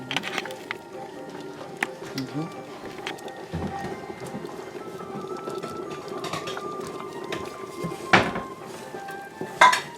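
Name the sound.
stirring bean stew in a pot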